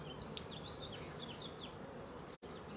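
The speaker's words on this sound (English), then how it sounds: "I got a bee in my pant leg" A bee buzzes close by in a beekeeping setting outdoors, thin whining passes weaving over a steady low background hum, with a brief rustle near the end.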